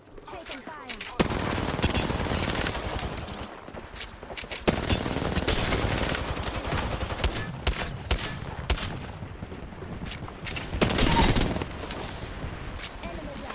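Bursts of video game gunfire in a battle royale shooter, sustained automatic fire rattling through most of the stretch with brief gaps and a louder flurry near the end, with a voice talking over it.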